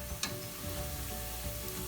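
Garlic and onion fry in a pan as the base for spaghetti bolognese, giving a faint, steady sizzle with a few soft pops and crackles over a low background hum.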